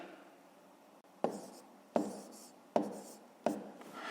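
Pen strokes writing multiplication numbers by hand on paper, four distinct scratchy bursts spaced under a second apart, close and fairly quiet with no talking.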